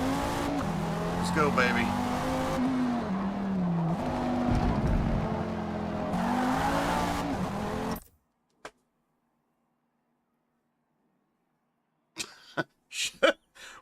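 Simulated race car in the Forza video game lapping the Nordschleife, a loud continuous engine drone with shifting pitch for about eight seconds, then cutting to near silence before brief voice bursts.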